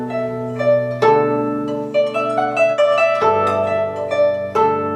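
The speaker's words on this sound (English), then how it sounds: "Gojang is a Chinese string instrument that looks like this" A Chinese string instrument plays a slow run of sustained, ringing pitched notes, each attack sliding into the next, loud and clear with no voices over it.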